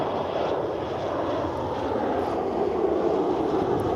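Embraer jet airliner of the TAP Air Portugal fleet at Lisbon Airport, a steady, moderately loud broadband engine roar that holds evenly throughout with no voices.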